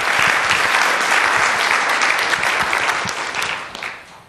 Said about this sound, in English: Give Rod a round of applause.